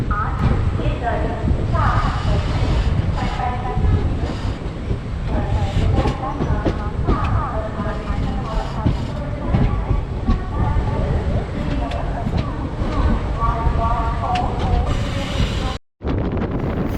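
A train runs along the electrified Shoranur–Nilambur railway line in Kerala, heard as a steady continuous rumble with rhythmic rail clatter and wind noise, broken by a brief dropout near the end.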